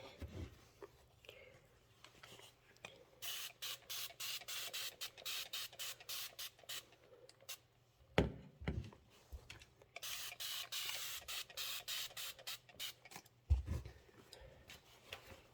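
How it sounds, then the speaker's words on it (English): Bursts of spray from a pump bottle onto fabric, quick hissing squirts in two clustered runs, with a few soft thuds and taps in between. "Just spray them all."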